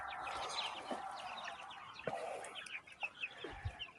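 High, busy cheeping from a group of chicks about a month and ten days old, close by and continuous, with a few soft thumps and low clucks mixed in.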